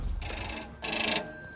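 An old telephone bell rings at a museum in two bursts, the second brighter and louder, close by and with no talk over it.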